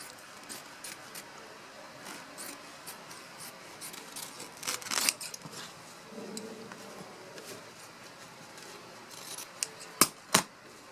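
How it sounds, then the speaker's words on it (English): Scissors cutting away excess embroidery stabilizer, soft repeated snips and rubbing close by, ending with a couple of sharper, louder cuts. "now what we're going to do is cut all this excess stabilizer away"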